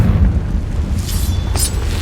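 Confringo blasting spell explosion in the Hogwarts Legacy video game inside a cave, a loud, deep rumbling boom that rolls on for about two seconds, with brighter crackling bursts near the end.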